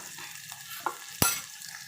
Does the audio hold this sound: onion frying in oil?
yes